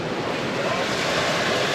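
Open sea around a sailboat under genoa and mainsail making about six knots in roughly three-metre waves between Las Palmas and Mindelo: continuous loud rushing water and buffeting wind noise, without speech.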